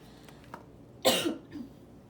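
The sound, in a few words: cough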